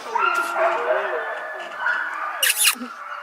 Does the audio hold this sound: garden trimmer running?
no